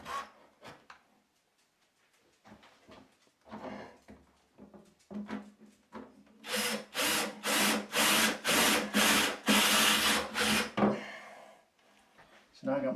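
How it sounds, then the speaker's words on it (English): A power drill with a 1/4 inch bit bores through drywall in a series of short, loud bursts, preceded by quiet handling noises and brief talk. "I have a 1/4 inch drill bit. I'm going right through the drywall right there."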